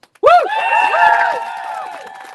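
A few voices whoop and cheer loudly at the finish of an Atlantic ocean rowing race, a short burst of excitement that trails off over a couple of seconds.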